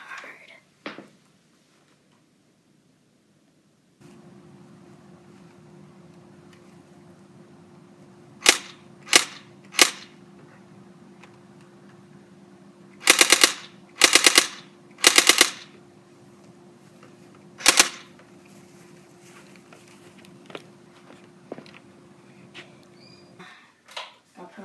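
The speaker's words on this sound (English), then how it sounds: "But this is an airsoft gun. I can only shoot in the backyard." An airsoft gun fired in a backyard: scattered sharp pops, single shots and quick clustered bursts, over a steady low hum, with a few faint voice sounds.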